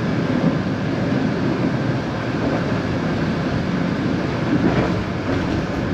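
Interior of a small, basic narrow gauge train on a coastal line in northern Spain, its steady rumble and rattle continuous and fairly loud, with no voices.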